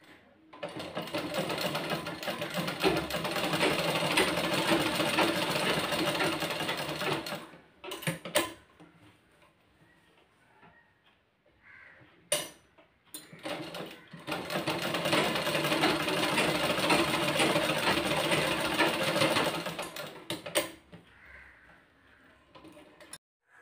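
A sewing machine stitching cloth runs in two long, steady bursts of dense mechanical whirring, with a quieter pause of scattered handling clicks between them and at the end.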